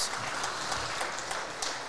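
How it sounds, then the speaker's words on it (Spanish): A crowd claps steadily, a dense wash of applause heard from a moderate distance without pause. "aplauso, aplauso a todos"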